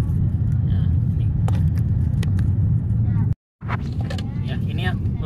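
A steady, loud low rumble of tyres on the road heard from inside a 2015 Kia Rio facelift sedan with automatic transmission, continuous apart from a brief dropout near the end.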